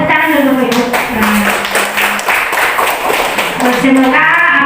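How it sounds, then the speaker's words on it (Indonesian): Classroom audience of parents clapping at the close of a school session at an elementary school in Indonesia, steady broadband clapping throughout with voices and speech mixed in over it. "Tepuk tangan dulu Bapak Ibu"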